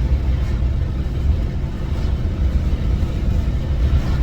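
Mercedes-Benz W116 engine pulling hard under throttle while already at speed, a steady low rumble with road and cabin noise, fairly loud and continuous throughout with no speech.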